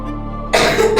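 A single cough bursts out in an indoor home setting, loud and close, rising abruptly after a faint low hum and followed by a second short burst.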